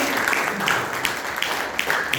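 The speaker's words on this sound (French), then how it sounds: "Donnez une bonne main d'applaudissement au Seigneur." A worshipping congregation claps during a French-language church service, a thick, continuous patter of hands with a few sharper claps popping through and voices mixed in beneath.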